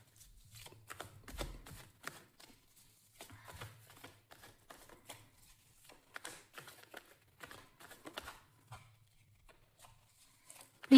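Tarot cards are shuffled by hand, giving soft, quiet riffles and flicks in short repeated bursts with small pauses between them, close and otherwise near-silent.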